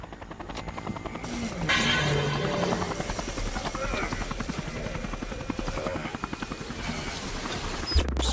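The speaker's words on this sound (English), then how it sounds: "Do I shoot the helicopter?" Helicopter in the video game RoboCop: Rogue City, its rotor chopping steadily and loudly with a rapid rhythmic thud, while a voice talks over it and game effects come and go.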